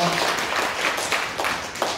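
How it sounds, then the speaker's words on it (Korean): Audience applause following a lecture, a steady wash of many hands clapping at moderate loudness throughout the short stretch, with no voices on top. "다시 한번 큰 박수 부탁드립니다"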